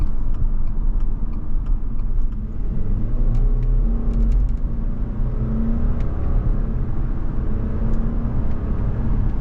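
A 2024 Subaru Legacy Sport driving down a winding road, heard from inside as a steady low engine rumble and road hum, with mild rises and falls in pitch through the turns and no voices.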